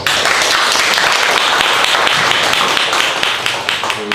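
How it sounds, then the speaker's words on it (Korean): An audience at a bookstore book talk claps loudly to welcome a singer onto the stage, a dense, continuous burst of close applause that carries on unbroken throughout. "큰 박수로 모실까요?"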